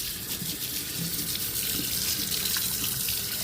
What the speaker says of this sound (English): I'll just rinse it off because I like it that way.